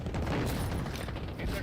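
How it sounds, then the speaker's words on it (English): Cluster strike explosions in the video game Warzone produce a loud, dense, continuous rumbling barrage of overlapping booms, with voices talking over it. "Allied cluster strike inbound."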